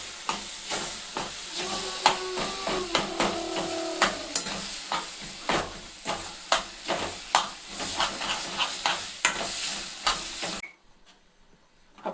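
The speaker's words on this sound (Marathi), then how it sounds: "आपण त्यामध्ये आता ते फोडलेलं वांग टाकून घेऊ। छान मिक्स करून घेऊ।" Mashed roasted eggplant is stirred and cooked in a pan for bharit, a close sizzle punctuated by repeated spatula scrapes and thumps, stopping abruptly near the end; no speech.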